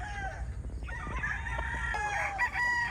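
Chickens clucking and a rooster crowing nearby over a low background rumble, the calls overlapping in a busy farmyard chorus.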